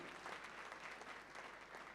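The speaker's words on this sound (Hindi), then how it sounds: "ताली बजा के प्रभु को धन्यवाद दीजिए आज सुबह।" A church congregation claps to thank God during a Sunday service, a steady, dense wash of applause from a crowd that continues unbroken and sounds somewhat distant.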